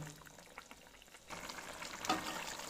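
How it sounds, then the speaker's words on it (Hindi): A glass of water poured into a pot of beef pulao, a sudden sizzling, bubbling rush that rises over quiet frying and lingers near and faint. "एक गिलास और हमने पानी का इसमें शामिल कर दिया है।"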